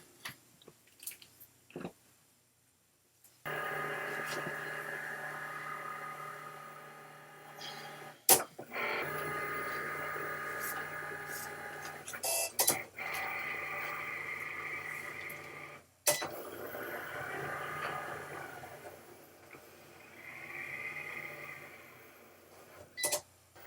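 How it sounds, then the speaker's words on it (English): A printer-cutter runs steadily with a mechanical hum and whir, cutting out shapes, pausing and restarting, with occasional clicks and clunks between passes. "Send those to my printer."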